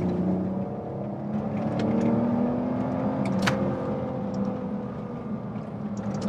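A BMW E46 330ci accelerates flat out at high RPM from inside the car, its engine note climbing steadily, then a quick gear change and a continued loud pull with road rumble.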